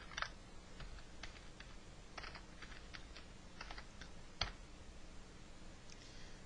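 Quiet, rapid clicking of keys on a computer keyboard, with irregular bursts of keystrokes and one sharper tap, heard alone at low volume in an indoor setting.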